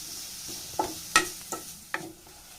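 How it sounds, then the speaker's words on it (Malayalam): Onions and curry leaves sauté in a pan over a faint sizzle, broken by several sharp scrapes and clacks from stirring at irregular intervals. The sounds are close, and nobody talks. "നല്ല പോലെ ഇളക്കിയിട്ട് നല്ല പോലെ ഒന്ന് വഴറ്റിയെടുക്കാം"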